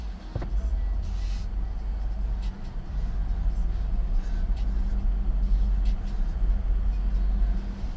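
A Tesla Model Y driving along a rough Norwegian country road on the outskirts of Bergen, a steady low rumble of road and tyre noise with wind inside the cabin, no talk.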